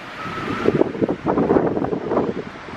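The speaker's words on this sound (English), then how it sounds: "Let's see how windy it is." Gusting wind buffets the microphone at a marina in uneven low rumbling bursts, with a faint hiss of open air behind it.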